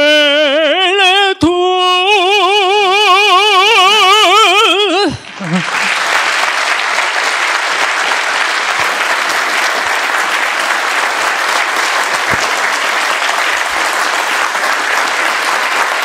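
Audience applause follows a tango at a tribute to 1982 war veterans. A sustained, dense wash of clapping fills the space after the closing sung notes and music fade.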